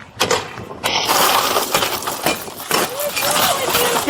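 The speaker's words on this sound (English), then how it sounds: "I'm gonna break the window." Car window being smashed during a police arrest of a drunk driver in a Mercedes, loud crunching and breaking glass in repeated bursts, with shouting and scuffling voices mixed throughout.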